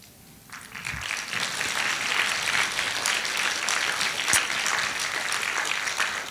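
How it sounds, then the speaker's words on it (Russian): Tentative applause from a seminar audience at a training session, rising from quiet after a moment into a thin, uneven patter of clapping that stays moderate throughout. "Ваши неуверенные аплодисменты говорят о том, что вы находитесь в процессе размышления"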